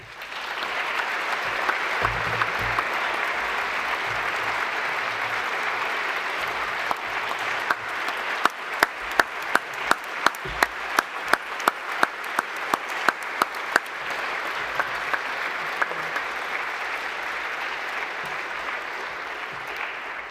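Long, sustained applause from a lecture-hall audience at the close of an annual institute lecture, dense and steady, with a stretch of sharper individual claps standing out near the middle before settling back into an even wash.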